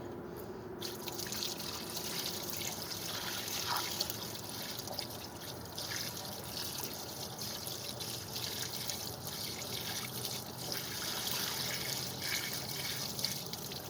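Water poured into a gas-powered water pump to prime it, pouring and trickling steadily for a long stretch, a continuous wet splashing that stays at an even, moderate level throughout.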